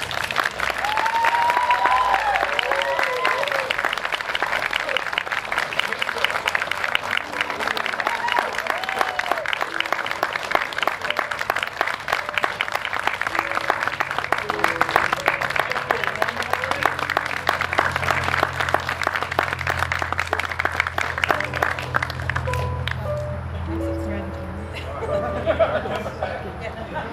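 Wedding guests applaud and cheer newly introduced husband and wife Deana and Glen, sustained loud clapping mixed with whoops and crowd chatter that runs long before thinning out near the end, with voices talking underneath.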